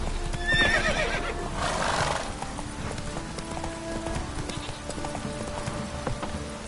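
Roach, the horse in The Witcher video game, gallops in a fast rhythmic clip-clop with a loud whinny early on, the hoofbeats continuing steadily and close.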